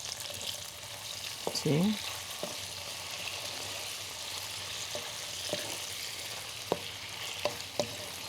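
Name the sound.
soy sauce added to stir-fried vegetables sizzling in pan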